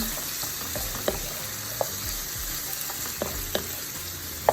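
Minced garlic being folded into a hot pan sizzles steadily and close, with a few light clicks and scrapes of the spoon against the pan as it is stirred in.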